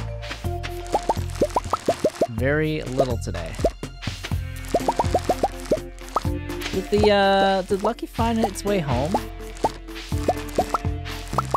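Repeated watering-can splashes on crops in Stardew Valley sound as quick plops and drips in a steady rhythm, mixed with bright game chimes, while a person talks over them.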